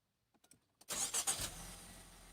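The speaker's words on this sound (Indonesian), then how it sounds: "Nah, kita coba tes, nyalakan mesinnya ya" 2020 DFSK Glory i-Auto starting: a few faint clicks, then the engine cranks and catches with a rising whir that settles into a steady idle, close and clear, no talking.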